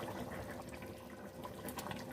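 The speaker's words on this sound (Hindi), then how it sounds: "थोड़ा सा अभी हम पानी ऐड कर देते हैं सफ़ेद चनों वाला बॉयल किया हुआ" Boiled white chickpea water pours steadily into chana masala, giving a continuous splashing gush of liquid with no pauses from start to finish.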